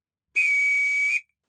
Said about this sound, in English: Oh dear, I believe he is whistling for me.